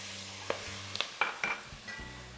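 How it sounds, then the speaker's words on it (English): Onion, bell peppers and celery fry together in a pot with a dark roux for chicken, shrimp and sausage gumbo. A steady soft sizzle runs underneath while a spoon scrapes and clinks against the pot several times, close by and without talk. "Just keep frying all that together."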